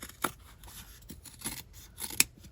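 Scissors snip through paper for a junk journal in a few quiet, separate cuts, with sharp clicks spaced across a calm room.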